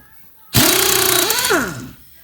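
A power tool runs down the strut nut on a Fox Body Mustang fitted with Eibach Sportline springs: one loud, close motor burst of about a second and a half whose whine sags in pitch as it winds down.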